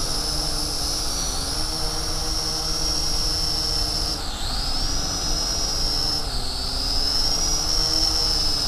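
A Lishitoys L6055 2-in-1 drone-car quadcopter carrying a 40 g Runcam HD camera flies under continuous throttle, its rotors giving a steady, close, high-pitched whine that dips briefly and then swells back as the throttle changes.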